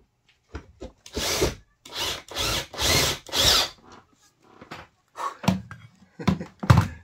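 A power drill bores holes during a bus-to-camper conversion, giving several close, loud bursts of whining drilling about half a second to a second each, then a run of shorter, choppier bursts and knocks, with no voices.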